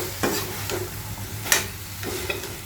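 Drumsticks are stirred in a frying pan while cooking a curry, with soft scraping strokes at irregular intervals over a low, quiet sizzle, and no talking.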